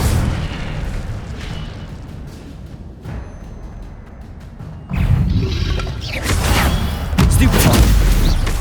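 An Incendio fire spell is cast in Hogwarts Legacy amid a spell-slinging duel, with a loud booming burst of fiery crackle and rumble that swells mid-way and keeps roaring, mixed with other combat effects.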